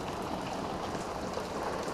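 Steady, dense downpour of heavy rain in a Michigan summer storm, a continuous broadband hiss of drops close by with no speech.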